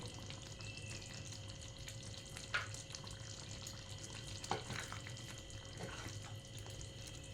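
Soybean curry with coriander leaves is stirred in a pan over a low, constant simmering hiss, with a few faint scrapes of the spoon against the metal and no voices.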